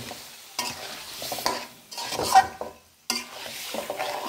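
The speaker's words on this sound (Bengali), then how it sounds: "এটা আর একটু ভাজা ভাজা হলে তারপর আমি কিন্তু পানি দিয়ে দেব।" Fish cooked with mixed spices sizzles in a pan while being stirred in bursts, scraping strokes rising and dropping out between pauses, close and fairly loud with no talking.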